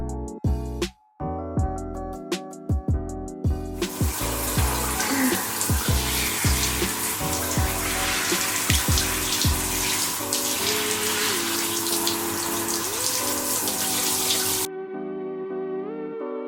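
Steady running water pours over a little girl's curly hair as she stands during a wash, with gurgling splashes and drips, continuous and close before cutting off near the end.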